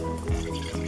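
Melted candle wax pours into a mason jar with a brief, steady liquid filling sound, close and continuous, with a soft low gurgle partway through.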